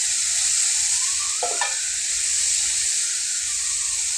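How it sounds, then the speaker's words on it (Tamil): Cut carrot, green beans and broad beans frying in a pan while being lightly stirred, a strong continuous hiss of sizzling with a brief scraping stir in the middle, close and loud, no voices. "நம்ம கட் பண்ணி வச்சது எல்லாத்தையும் நம்ம போட்டுடலாம். பாருங்கள், நம்ம லைட்டாக கிளறி விட்டுடலாம்."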